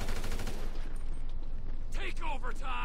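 AK rifle fire in Grand Theft Auto V rattles in a quick burst of rapid shots at moderate volume, followed by a few sharper, brighter cracks near the end.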